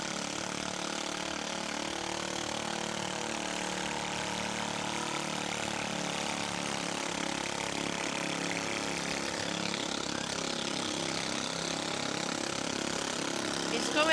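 A pulling tractor's engine idles and drones steadily at the start line of a tractor pulling event, holding a continuous rumble that swells slightly toward the end, with talk over it.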